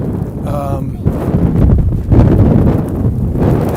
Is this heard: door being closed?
no